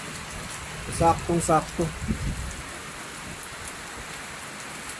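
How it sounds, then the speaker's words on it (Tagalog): Steady rain falls during a solo motorcycle ride while the rider shelters from the downpour. The rain is a continuous soft hiss throughout, with a short spoken phrase over it. "So kanina pa umuulan mga ka-travel, no?"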